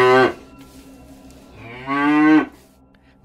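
A cow tethered in front of a house moos twice, close and loud: a short call, then a longer rising bellow after a quiet pause.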